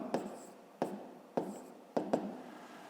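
Pen strokes scratching out an equation by hand on paper, four quick bursts of writing spaced evenly about half a second apart, close and fairly quiet, with no one speaking.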